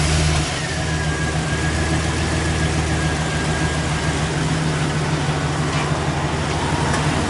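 A 2007-2009 Chevy Silverado pickup truck engine idles steadily with a low, constant rumble, close by and unchanging throughout.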